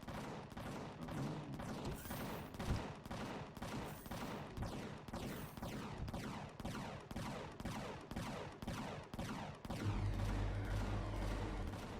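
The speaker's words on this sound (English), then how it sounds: "I'd like to know what my guns are actually firing at." Sustained turret fire in Empyrion Galactic Survival, a steady rhythmic string of loud, evenly spaced shots repeating for the whole stretch, with a deeper rumbling layer joining near the end.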